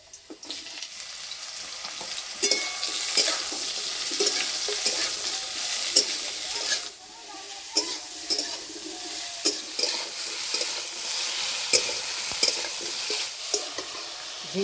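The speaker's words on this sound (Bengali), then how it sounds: "ঝিঙেটাকে হালকা করে একটু ভেজে নেব।" Ridge gourd fries in hot oil in a wok, a continuous sizzle broken by repeated scraping and clacking stirs of a spatula, close and clear with no talking.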